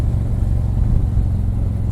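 A 2018 Harley-Davidson Ultra Limited with the 107 engine rumbles along while being ridden, a loud, steady low throb of the big V-twin with wind noise over it.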